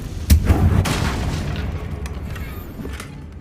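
A Confringo blasting spell from Hogwarts Legacy detonates as one loud, close boom, then a rumbling tail fades over a few seconds.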